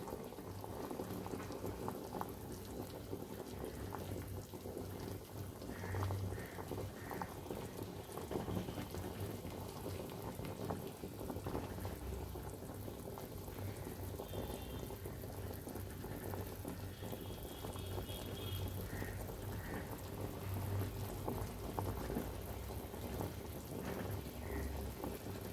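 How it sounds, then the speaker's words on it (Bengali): Mung dal bora curry, made without frying, boils in a pot, a dense continuous bubbling roar, close and steady for the whole stretch with no talk. "চলো এবার 2 মিনিট পর্যন্ত ফুটুক"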